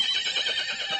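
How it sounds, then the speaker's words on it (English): A horse lets out a high, shrill whinny, loud and close, holding a quavering tone through its whole length with no talk over it. "We know it as the horse."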